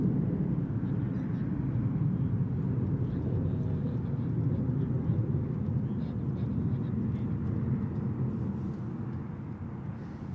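A USAF F-15 fighter jet roars overhead in a continuous, loud low rumble that holds steady and eases slightly toward the end, with no clear talking over it.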